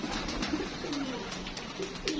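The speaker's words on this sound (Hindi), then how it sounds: "सारे कबूतर हेल्दी एक्टिव बच्चे बुच्चे हैं।" Pigeons coo softly and repeatedly in low, rolling murmurs over a steady background hum, several birds overlapping close by.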